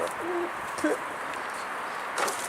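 Mardin pigeons perched on a rooftop give a couple of soft, short coos against a quiet outdoor background, one near the start and another brief call shortly after.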